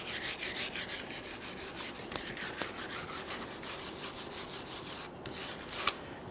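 Steady rhythmic rubbing and scraping as a drive shaft yoke's base is cleaned to a smooth mating surface on a 2013-2020 Ford Fusion 2.0L L4, close and fairly quiet, with a few brief clicks and no talking.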